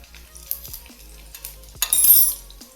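Garlic dropped into hot oil with cumin seeds and a pinch of asafoetida, bringing a sudden bright sizzle after a few light clinks of utensils against the pan.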